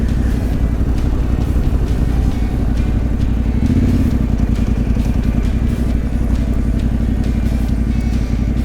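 A Yamaha Tenere motorcycle engine runs steadily up close for the whole stretch, a loud continuous low rumble with a slight swell in the middle, out in a game-viewing area of Limpopo.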